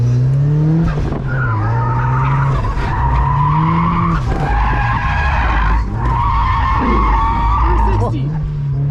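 Boosted Mazda Miata drifting and spinning out, with a loud sustained tire squeal over a roaring, revving engine that rises and dips as the car slides, very close. Voices can be heard over the noise.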